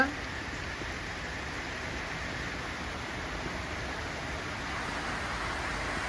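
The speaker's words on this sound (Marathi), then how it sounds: "किती पाऊस चालू आहे बघा" A steady, even hiss of heavy rain falling, constant and fairly soft, with no break across the whole stretch.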